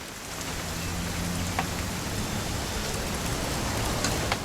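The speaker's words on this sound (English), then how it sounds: "It's gonna rain the whole weekend, isn't it?" Steady rain in the video game What Remains of Edith Finch patters continuously on surfaces, a dense even hiss with occasional louder drops, no voices present.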